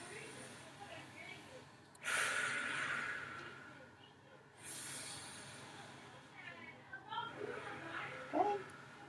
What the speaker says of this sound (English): Take a deep breath for me.